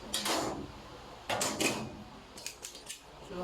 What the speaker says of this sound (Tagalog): So madali lang tanggalin itong inner slide din yan.